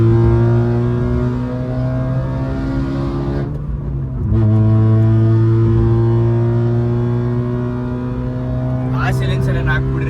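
A car engine drones loud and close, its exhaust note rising in pitch as the revs climb, dipping briefly, then climbing again, with speech over it.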